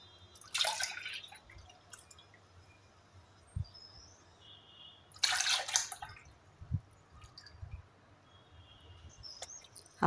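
Milk for custard pudding poured from a cup into a bowl, heard as two short, fairly close splashy bursts of liquid separated by quiet kitchen background.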